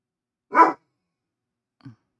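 A dog in a house gives one loud, sharp bark, followed about a second later by a shorter, fainter bark or yip.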